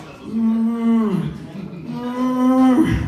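A voice imitates a breast pump motor, mimicking it as lowing cows: two long, drawn-out moo-like tones, each held for about a second, separated by a short pause and sounding close and clear.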